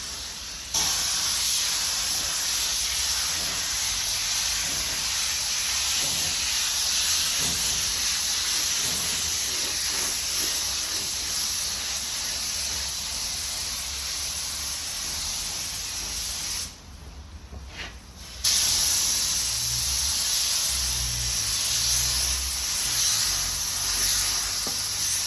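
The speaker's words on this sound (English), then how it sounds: "Then clear coat your job." A spray gun applies clear coat to a repaired car bumper, a steady loud hiss of atomized spray running almost continuously with one brief pause before resuming.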